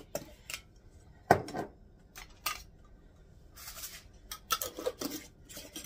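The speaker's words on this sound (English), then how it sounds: "I'll put all these lids back on." Lids clicking and snapping back onto small spice containers on a kitchen counter: a series of sharp, scattered plastic taps and clacks at close range with quiet pauses between.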